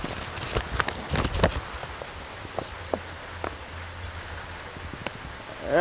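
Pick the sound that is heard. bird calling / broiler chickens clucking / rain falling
rain falling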